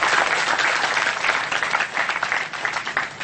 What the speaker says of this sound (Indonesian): Tepuk tangan yang ikhlas buat beliau.